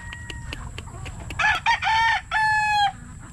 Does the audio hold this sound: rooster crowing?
yes